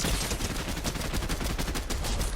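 Rapid sustained gunfire in the Fortnite video game, a dense continuous burst of loud shots rattling steadily with no pauses and no voices over it.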